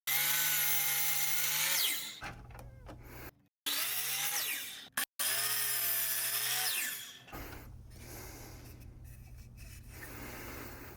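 A power saw set to a 25-degree bevel cutting wood, two loud whining passes, each a couple of seconds long and separated by a brief stop, before the motor winds down into a quieter hum.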